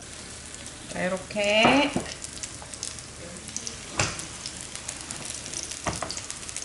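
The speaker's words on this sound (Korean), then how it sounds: "자 한 숟가락씩 떠서 올려줍니다. 팬에" Spoonfuls of shrimp and water parsley pancake batter fry in an oiled pan over high heat, giving a steady close sizzle and crackle with a brief voice speaking over it.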